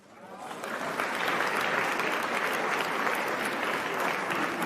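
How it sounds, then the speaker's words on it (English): A crowd breaks into dense, sustained applause after a speech on African leadership, rising quickly and holding steady and loud with no talking. "What you guys are applauding for?"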